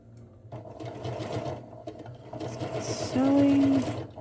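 A sewing machine stitches a sweater seam in short, rapid bursts of mechanical whirring, close and clear, with a person talking over and between the runs.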